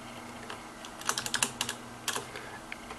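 Quick, irregular taps on a computer keyboard while renaming a file during a PhpFox install, crisp close-up clicks clustered in short bursts with quiet gaps between.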